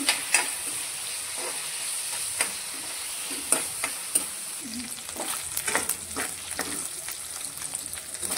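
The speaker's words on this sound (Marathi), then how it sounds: "अगदी 2-3 मिनिटं फ्राय करायचं।" Bombay duck (bombil) fish frying in a pan with a little salt, a steady close sizzle with occasional clicks and light stirring, no voices.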